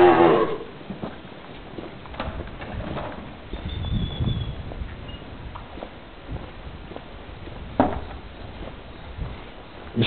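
Cattle low from a farm corral where a cow is giving birth, with distant moos and animal calls over a steady barnyard hum, some pigeon-like cooing mixed in.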